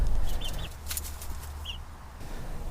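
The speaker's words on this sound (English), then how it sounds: "we already have a silky hen with 4 chicks that are about a month old now" A Silkie hen with four month-old chicks in a backyard coop, giving a few soft clucks alongside faint high chick peeps, close by with low background hum.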